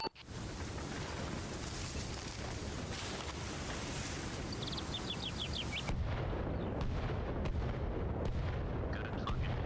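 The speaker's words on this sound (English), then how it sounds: "Requesting mortar support. Mortars inbound." Mortar barrage impacts in a military tactical video game, a dense continuous rumble of blasts and booms with sharp cracks scattered through, loud and sustained without talk.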